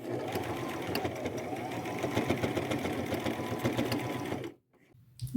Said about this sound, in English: run a stitch down here for good measure and extra security